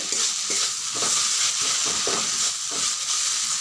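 Water spinach (kalmi shak) with rice paste fries over low heat, a steady close sizzle with rhythmic stirring scrapes repeating every half second or so, and no voices.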